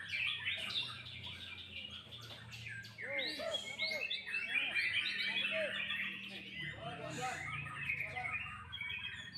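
A prinia (perenjak) sings close by in rapid chirps and squeaky trills that run on steadily, with other twittering layered in and a faint low hum underneath.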